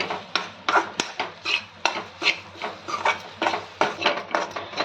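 Coconut powder roasting in a pan with a drop of oil is stirred in a steady rhythm of spatula scrapes against the metal, about two to three strokes a second.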